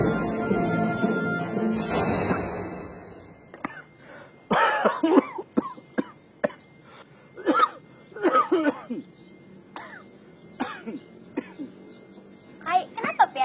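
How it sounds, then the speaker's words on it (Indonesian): Repeated sharp coughing fits, close and loud, in short clustered bursts after an opening stretch of sound, with brief pauses between coughs. "kenapa pian batuk?"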